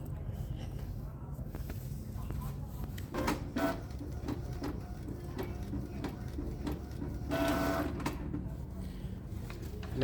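An inkjet printer prints a page in economy draft mode, a steady mechanical whir with periodic clicks and carriage movements running throughout, fairly close.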